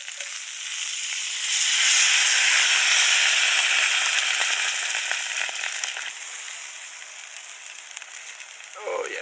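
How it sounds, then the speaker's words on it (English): Brussels sprouts steaming in a pan with water added at a campsite, giving a steady bright hiss and sizzle that swells after a moment and then eases slightly, heard up close with no talking. "Then I'll add some water, which will kind of help steam them a bit,"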